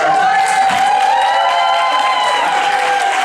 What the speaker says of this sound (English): I'm just trying to milk that applause.